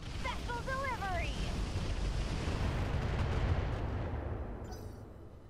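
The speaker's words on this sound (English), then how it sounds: "let's drop some arty on this guy" An artillery strike in the video game Roguetech, a heavy rumbling roar sustained for several seconds and slowly fading, with a brief rising whistle near the start.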